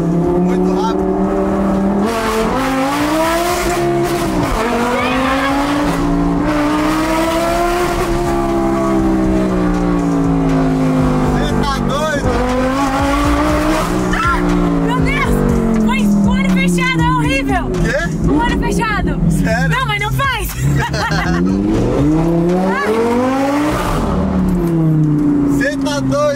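A Lamborghini sports car's engine roars and swells through repeated rising and falling revs while driving, loud and continuous throughout, with people talking over it.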